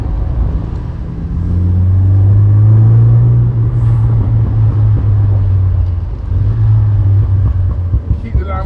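Deep engine rumble from inside a Morgan Plus Four sports car, rising and holding a steady drone as it drives, with a brief dip near the end.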